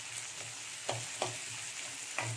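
Mustard seeds, onion and curry leaves sautéing in oil, a quiet low sizzle broken by four sharp spoon scrapes at irregular intervals, close and without talk.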